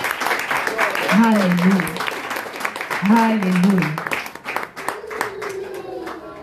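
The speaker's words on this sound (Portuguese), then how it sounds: "Uma salva de palmas para Jesus." A church congregation claps under loud voices calling out in praise, the clapping steady beneath the speech and thinning toward the end.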